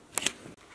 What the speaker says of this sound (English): So I'm going to cut a slit here first.